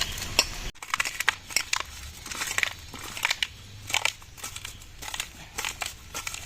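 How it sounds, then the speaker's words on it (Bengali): Fried peanuts crushed under a bowl pressed against a hard surface, giving repeated close crunching and crackling bursts in an irregular rhythm with no voices. "এখানে রেখে আমি এই বাটিটা দিয়েই ডলে ভেঙে নেবো"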